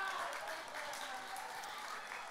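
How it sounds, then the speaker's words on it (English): Dense, steady applause from a live audience at a comedy show, a broad continuous wash of many hands clapping at once that holds level from start to finish with no voices breaking through. "You guys are good at clapping"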